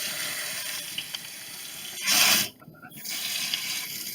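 Water gushes and splashes while a fish tank is being filled, a faint tap-like stream swelling into a loud two-second rush that stops abruptly, then resumes quietly.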